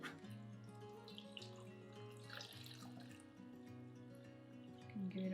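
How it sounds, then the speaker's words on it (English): Tap water runs steadily into a jar packed with carrots and clementines for a naturally fermented carrot clementine kvass soda, a continuous filling rush with a slight rise near the end, no talking. "now we're just going to top it off with water."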